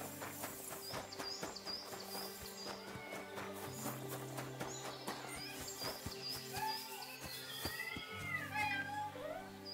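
Cat meows from the medieval RPG Kingdom Come: Deliverance II, with several calls over a dense game soundscape of layered music, horse hooves and whinnies, and birdsong, the meows recurring through the scene rather than standing alone.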